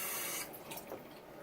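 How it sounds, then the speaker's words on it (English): Water runs from a faucet with its aerator removed, a steady hiss that is strongest for the first moment and then settles into a softer, even flow. "run the water for a second"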